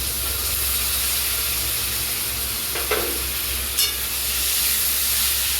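Onion paste hits hot oil in a pan and sizzles steadily throughout, a continuous close frying hiss with a couple of brief stirring scrapes partway through.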